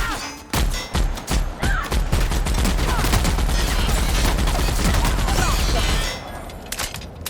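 Weapon fire in The Outer Worlds, opening with a few separate heavy shots and then a sustained rapid burst of loud gunfire for several seconds before it cuts off sharply.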